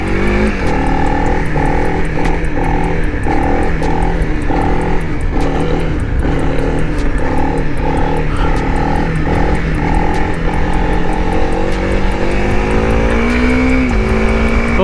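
A Honda CRF300L motorcycle accelerates hard on a top speed run, its engine droning loud and close with a steady high buzz, rising pitch through the gears and constant wind rush.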